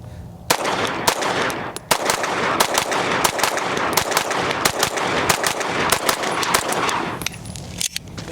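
Gunshots from an XP Fusion Pro all-metal pistol fed with Glock magazines, a steady string of loud, sharp reports fired at a quick, slightly uneven pace over several seconds, close and alone with no voices.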